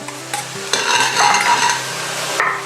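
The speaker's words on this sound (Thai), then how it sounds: "ตอนนี้ผมใส่ซอสที่ผสมลงไปแล้วนะครับคนให้เข้ากับน้ำมันนะฮะ" Mixed sauce is stirred into hot oil in a pan, producing a loud burst of frying sizzle that starts abruptly and keeps crackling steadily, along with light stirring sounds.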